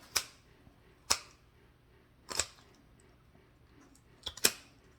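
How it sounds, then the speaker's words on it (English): Sharp, crisp snips of kitchen scissors cutting through Cornish hen bone, five isolated cracks spaced unevenly with a quiet background between them. "Get you some good cutting scissors that will cut through the Cornish hens."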